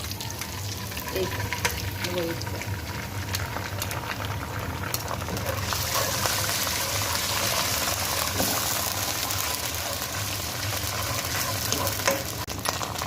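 Chicken shashlik gravy sautés in a pan with a loud, steady, close sizzle and occasional stirring scrapes, continuous throughout.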